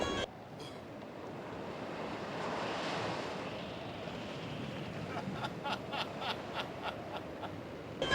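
Strong wind blows over the sea while waves surge and wash, a full roaring wash that swells midway, then gives way to a series of rhythmic gusty bursts toward the end.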